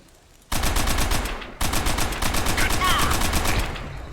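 Sustained automatic gunfire in Call of Duty: World at War co-op, rapid rhythmic bursts that pause briefly and then resume, loud and close, with a voice partly underneath.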